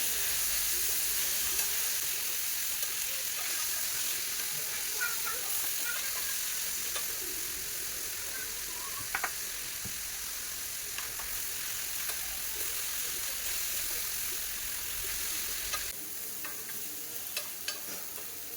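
Chopped small onions and two small tomatoes sizzle steadily in a pan, a continuous close frying hiss with faint stirring scrapes, no voices.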